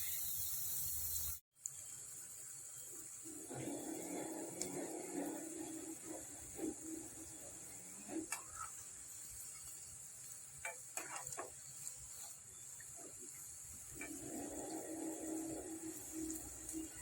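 Vadas made from urad dal batter deep frying in hot oil, a steady sizzling hiss that swells and fades in patches, close and moderately loud, with a brief dropout near the start.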